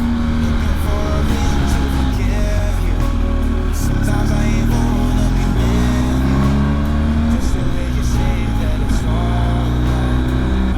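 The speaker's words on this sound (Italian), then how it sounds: "Qua aumenta il traffico in maniera allucinante." Steady engine drone of a loaded motorcycle in heavy traffic on a busy road in Italy, with other vehicles rumbling past and shifting engine tones throughout.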